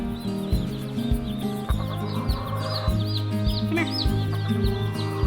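Hen named Wobbles clucking close by among other chickens, with a few sharper calls breaking through; a person speaks briefly over the birds.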